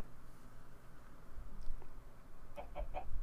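Clucking chicken in a fantasy video game, several short clucks bunched near the end over a steady low rumble of game ambience.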